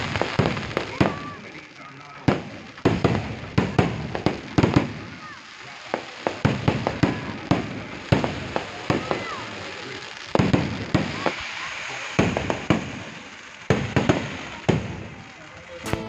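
At the Irinjalakuda church feast, festival fireworks go off in rapid irregular bursts of sharp cracks and booms, loud and dense, with crowd voices underneath.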